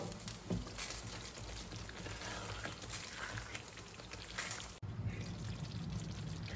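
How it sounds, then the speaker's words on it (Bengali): Rose water and kewra water trickle into a pan of wedding-style chicken roast, a soft continuous pouring and dribbling sound that stays fairly faint, with a brief break near the end and no talking. "এখন একটু সামান্য পরিমাণ গোলাপ জল দিয়ে দিব সামান্য পরিমাণে কেওড়ার জল দিয়ে একটু নেড়ে দিব"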